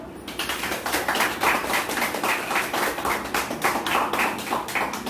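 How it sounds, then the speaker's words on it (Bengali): An audience applauding a young yoga student, dense rapid clapping from many hands heard close and loud, holding steady for several seconds. "তোমরা হাততালি দাও।"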